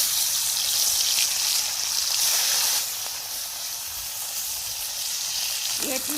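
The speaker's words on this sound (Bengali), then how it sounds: "আমি এক এক করে মাছগুলোকে দিয়ে দেবো।" Marinated fish pieces fry in hot oil for a Bengali dish. A loud, steady, close sizzle hisses throughout, easing slightly partway through.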